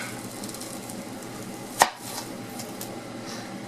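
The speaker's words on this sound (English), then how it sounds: "I'm going to flip this around and cut about this much" A knife slices through a white onion on a cutting board, giving a single sharp cut that stands out briefly against a quiet kitchen background.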